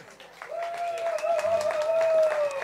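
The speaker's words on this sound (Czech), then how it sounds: "Tak potlesk pro ně." Audience applause at an outdoor festival concert held to save a Czech chateau, a moderate clatter of many hands rising under a prominent speaking voice on a microphone.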